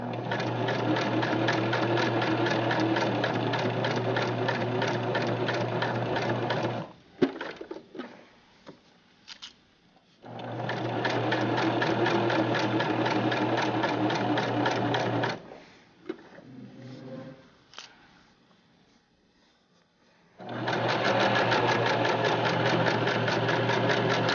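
A sewing machine back stitching a bunny stuffed animal runs in three long loud bursts of rapid stitching, with quieter fabric handling and clicks in the pauses between runs.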